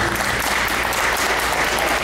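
A district meeting audience applauds the presenters, with loud, dense, continuous clapping throughout.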